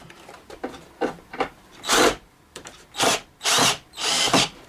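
A power driver sinks a screw into a wooden layout leg in several short bursts, each whirring buzz louder and longer than the last, with brief pauses between, close and alone.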